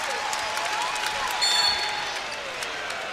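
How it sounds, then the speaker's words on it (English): Crowd at an NCAA women's basketball game between High Point and Virginia Tech, cheering and applauding a freshman's first college points: a steady, moderately distant burst of clapping and crowd noise that peaks briefly midway. "Crowd loving the first points of Claire Strack's collegiate career."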